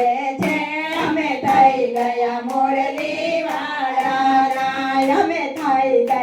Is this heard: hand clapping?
yes